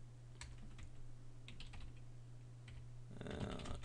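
Typing on a computer keyboard produces faint, scattered clicks over a steady low electrical hum, with a louder cluster of keystrokes near the end.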